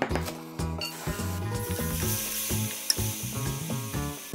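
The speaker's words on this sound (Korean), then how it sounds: "냄비에 기름 두르고 대파를 송송 썰어 넣고 파기름을 먼저 내주세요" Green onions sizzle in hot oil, a soft steady crackle close by, with light music playing underneath.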